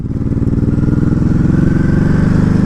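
A 2019 Ducati Hypermotard 950 engine runs steadily and loud in sport mode, a close, continuous pulsing drone with even, smooth throttle and no voices.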